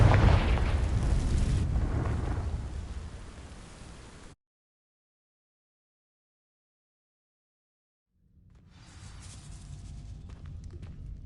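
The Confringo fire spell in Hogwarts Legacy bursts into dry vines with a loud, roaring blast and crackling rumble that fades into total silence, then a lower rumbling burn returns after the gap.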